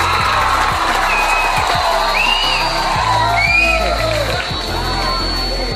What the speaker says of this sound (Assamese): আৰু একবাৰ হাত চাপৰি।